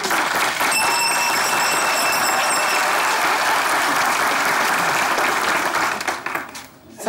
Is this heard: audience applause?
yes